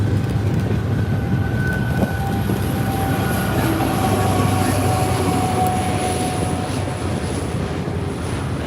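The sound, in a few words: Norfolk Southern train with New York Central heritage locomotive passing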